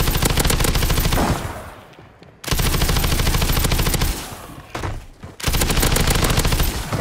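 Sustained automatic fire from a Kastov LSW light machine gun in a video game on Rebirth Island, loud close bursts of rapid rounds separated by two short pauses.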